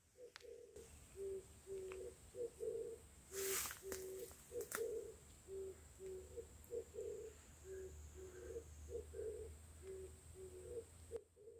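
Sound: wild mountain dove cooing in a forest

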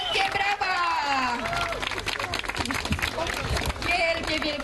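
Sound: crowd applause at a race award ceremony

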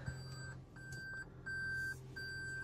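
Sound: car reverse warning beeping

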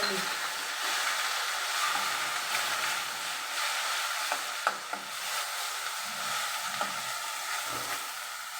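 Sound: onion sizzling in frying oil

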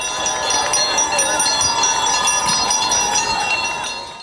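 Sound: school last bell ringing at graduation ceremony

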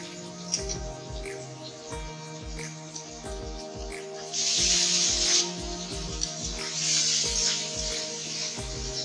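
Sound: cauliflower stalks added to shrimp, stirred and frying in pan

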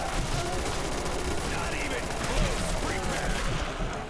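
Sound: machine gun fire in a zombies video game

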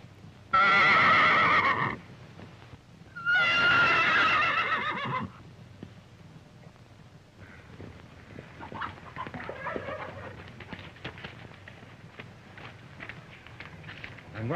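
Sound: horse neighing

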